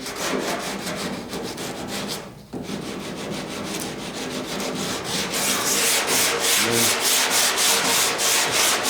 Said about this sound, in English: even though we're using a block sander, this is not completely flat